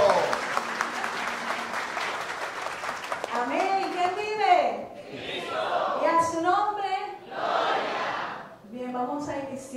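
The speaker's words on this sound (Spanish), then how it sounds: "A la cuenta de tres recibimos a Yocasti Reyes con un fuerte aplauso." A crowd at a Christian family movement gathering applauds to welcome Yocasti Reyes. Clapping fills the opening seconds, then loud cheers and voices break in over it and the noise ebbs and swells.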